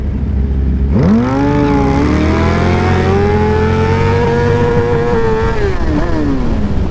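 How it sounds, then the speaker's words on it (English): Loud car engine revving hard as it accelerates through an intersection, with a tire spinning, the pitch climbing steadily then easing off, close and dominant with no talk. "I spun the tire all the way through that intersection"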